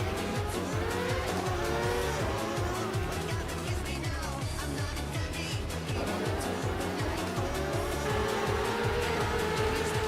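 Race cars in the CorpoCar World Series video game roar continuously at full throttle, engines rising and falling through gear changes with tire squeal and skidding mixed in, a loud steady racing din.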